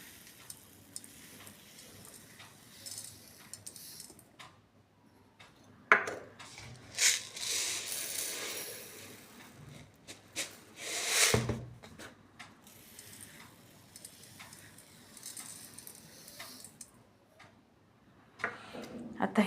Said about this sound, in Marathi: आता हे थोडं हलवून चमच्याने ही साखर खालीवर व्यवस्थित मिक्स करायची आहे